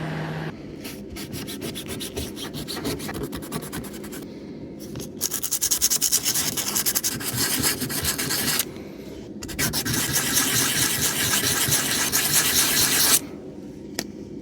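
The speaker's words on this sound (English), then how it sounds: "we'll clean down and sand enough to expose the circuit that we need to see" A circuit board from firefighter equipment is sanded to expose its traces, producing close, gritty rubbing in bursts separated by short pauses, louder in the later strokes.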